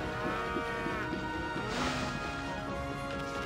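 Cattle mooing loudly and repeatedly in the video game Okami HD, several overlapping drawn-out lowing calls filling the scene with a steady background of game ambience.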